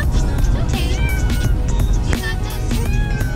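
A cat riding in a vehicle meows repeatedly in drawn-out, wavering calls over a loud steady road rumble, close to the listener.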